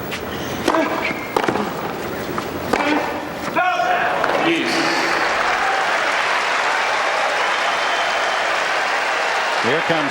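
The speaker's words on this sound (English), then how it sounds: "Here comes the crowd." A tennis crowd at the 2003 US Open semifinal between Roddick and Nalbandian breaks into cheering and applause, a few sharp hits and thuds first, then a dense, sustained roar of clapping.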